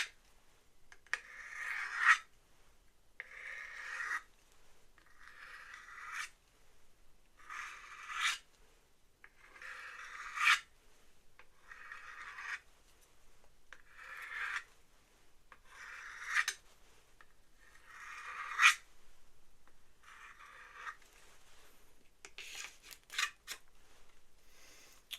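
A knife blade is drawn repeatedly through the built-in sharpener on the back of a sheath, about a dozen close, scraping rasps in a steady rhythm, each stroke a short gritty swipe with brief pauses between, no talking.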